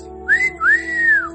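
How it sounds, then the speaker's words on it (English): A person whistles twice up close, a short rising note and then a longer sweeping note, clear and loud over a faint steady hum. "Another whistle for him."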